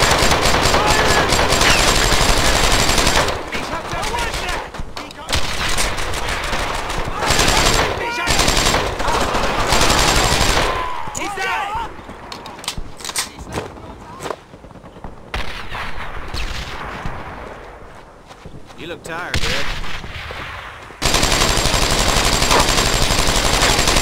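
Sustained gunfire and artillery from the World War II shooter Brothers in Arms: Earned in Blood, in a fight at St. Martin. Loud machine-gun bursts and rifle shots rattle almost without pause, with shouted talk mixed in over the battle.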